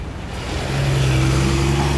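Cars and other traffic passing on a city street, a loud broadband roar with a steady engine hum that builds and holds close by.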